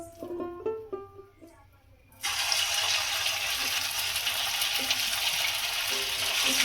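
Chicken tikiya patties dropped into hot refined oil in a kadai: after a quieter tonal stretch, a loud, dense, steady sizzle bursts in and holds close up to the end.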